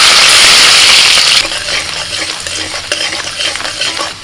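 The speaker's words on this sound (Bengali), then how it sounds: "কড়াইতে আমি সাদা তেল দিয়েছি তেলের মধ্যে দিচ্ছি রসুন কুচি" Chopped garlic and ginger hit hot white oil in a wok with a loud burst of sizzling that then settles into a softer crackle under clinking stirring, close up and without talk.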